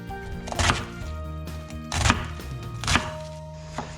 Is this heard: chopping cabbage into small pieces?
yes